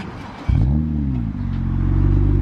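A car engine fires up with a sharp start, then settles into a loud, steady exhaust rumble that builds slightly as it idles close by.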